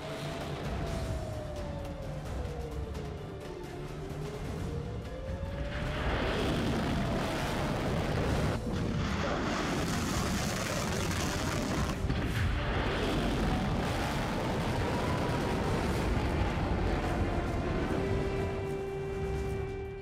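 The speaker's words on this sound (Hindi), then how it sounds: "इस युद्ध अभ्यास में IRGC ने कद्र 110, कद्र 380 और गादे क्रूज मिसाइल का इस्तेमाल किया।" Qadr 110, Qadr 380 and Ghader cruise missiles strike during an IRGC war exercise, a loud, continuous roar and rumble that runs the whole time with sweeping tones gliding above it and no talk.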